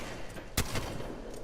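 A single sharp blast from the Mastiff shotgun in Apex Legends, one abrupt loud report partway through, with a short tail over quiet game ambience.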